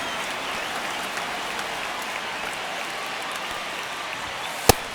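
Crowd noise in MLB The Show 25 during a ninth-inning Yankees versus Boston game: a steady, broad murmur runs throughout with no speech, and a single sharp crack stands out near the end.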